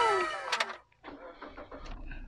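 A 2018 Suzuki SX4 S-Cross automatic starts with a push button: a brief starter whir and catch, then a short pause before the engine settles into a steady, close idle.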